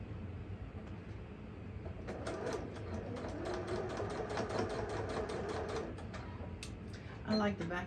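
A sewing machine stitches across a chalk line on a fabric front panel, its rapid needle running steadily and close for several seconds and stopping near the end, with a soft knock from handling after it.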